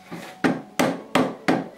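A hammer taps a shop-made wooden dowel into a screw pocket in wood, four sharp evenly spaced blows close up after a soft scrape.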